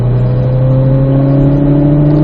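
A car accelerates hard out of a curve on a driving course, its engine droning loud and close with a steady, slowly rising mid-pitched tone and no voices over it.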